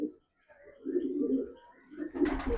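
A racing pigeon coos close by in low, throaty, repeated phrases, with a short pause before the cooing resumes more strongly near the end.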